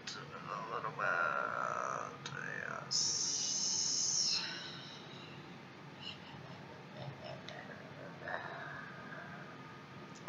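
A person imitates a growl with the voice, a rough, low throaty rasp in short bursts heard close up, mixed with other vocal sounds and quiet background noise.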